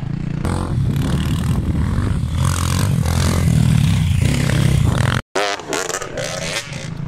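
Motocross dirt bikes tear past on a sandy track during a six-hour endurance race at Nabiac, engines loud and close, rising and falling with revving and clattering, and a brief dropout near the end.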